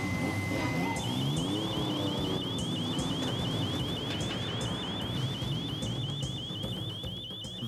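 A brief steady beep gives way to a loud electronic alarm from a cash-in-transit case, warbling rapidly and without pause, with a low rumble of traffic underneath.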